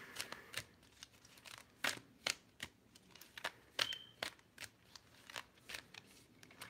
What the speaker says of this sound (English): I'm shuffling the Journey of Love deck